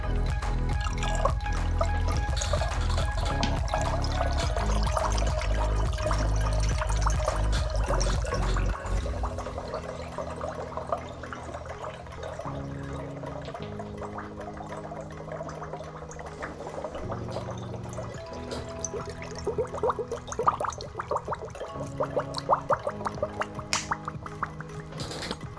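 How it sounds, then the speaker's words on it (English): Homemade alcohol being poured off its sediment, a loud gurgling glug and splash at first that eases into softer trickles and drips of liquid. "so we're just going to pour it in"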